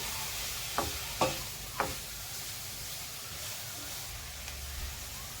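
Tomato rice ingredients frying gently in a pan on low heat: a soft, steady sizzle with three sharp stirring knocks early on, fairly quiet and without talk.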